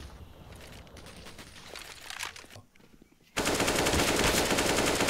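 Rapid automatic rifle fire in a video game rattles in continuous bursts, then a louder sustained spray of shots erupts near the end, dense and close.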